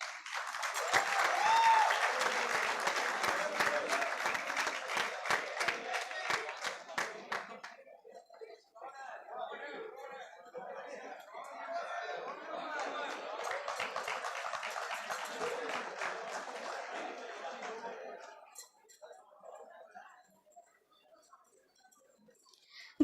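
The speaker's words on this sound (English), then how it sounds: "Let us give a huge round of applause as we announce the best players of Ojasya." Audience applause at a school sports awards announcement, loud dense clapping for about eight seconds, then a quieter second burst of clapping that fades out toward the end.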